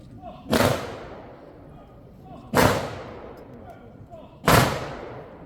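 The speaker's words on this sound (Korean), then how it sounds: "의장대 조총 발사!" An honor guard fires three evenly spaced rifle volleys at a memorial ceremony at the Seoul National Cemetery, each a loud, sharp crack that rings out and echoes off across open ground.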